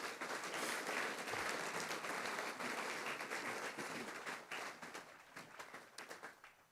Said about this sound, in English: I'd have a round of applause for the students on stage.